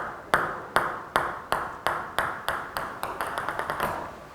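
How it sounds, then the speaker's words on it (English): A ping pong ball bounces repeatedly on a hard surface, its sharp clicks coming faster and faster as the gaps shrink into a rapid final patter. Close and clear, with no talking. "you hear this frequency increasing in time"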